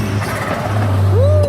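Turbocharged car engine at a car meet, a strong low steady drone held throughout, ending in a rising then falling whistle-like sweep near the end, with some background chatter.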